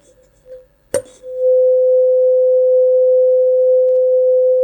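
Resonance tube in a physics practical on the speed of sound in air, a tuning fork struck with a sharp click, then a loud, steady pure tone ringing at the resonance point and holding without fading.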